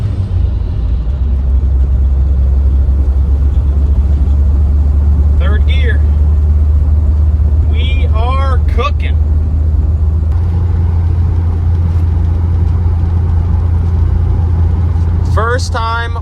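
An old car on the road for the first time in 40 years, driving in third gear with a loud, steady low engine drone and road rumble throughout, while someone speaks briefly over it.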